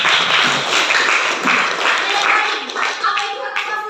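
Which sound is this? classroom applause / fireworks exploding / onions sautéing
classroom applause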